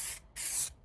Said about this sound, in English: is to add some spray carpet adhesive